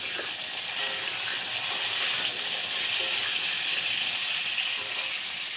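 Cut potatoes frying in hot oil for a spiced soybean curry, giving a steady, close, broad hiss of sizzling that holds evenly throughout with no talk.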